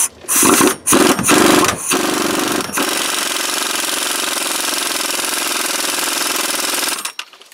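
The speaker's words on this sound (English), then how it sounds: "we're gonna tighten up the center crankshaft bolt pulley" An impact gun tightening the center bolt on a car's crankshaft pulley: a few short loud hammering bursts, then a long sustained rattling run that stops abruptly, close up.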